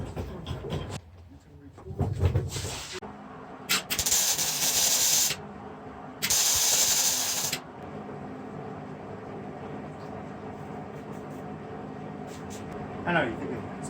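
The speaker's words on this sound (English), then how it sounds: "spraying water on it's cooling it down too fast." Water sprayed onto a hot weld on a mini-bike frame, producing two bursts of sharp hissing spray amid workshop noise, with a person talking at times.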